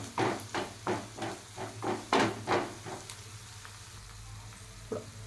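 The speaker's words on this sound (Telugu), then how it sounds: "ఇప్పుడు ఇలా ఒక టీ స్పూను అల్లవెల్లిపాయ పేస్ట్ వేసుకోవాలి ఇది కొద్దిగా పచ్చివాసన పోయిందాక పండుగ అయిందాక ఫ్రై చేసుకోవాలండి" Ginger garlic paste frying in a pan for a spinach egg omelette, a soft sizzle under a run of rhythmic scraping stirs, each stroke close and distinct, trailing off into quiet sizzling near the end.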